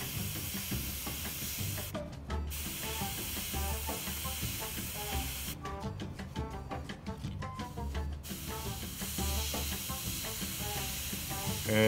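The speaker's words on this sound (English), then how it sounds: "We're spraying between 10 and 15 PSI." Airbrush spraying paint at 10 to 15 PSI onto a Jagdpanther tank model, a steady close hiss that stops briefly twice and resumes, with faint background noise.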